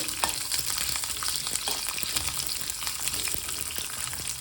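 Sambar onions fry in oil with cinnamon, cloves and cardamom, a soft constant sizzle with irregular spoon scrapes and stirring clicks, fairly quiet, close by, with no voices.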